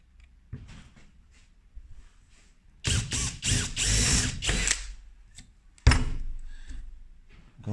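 Cordless drill with a 3.5mm bit drilling aluminium, a few short whirring bursts, the longest about two seconds, close and fairly loud against a quiet background.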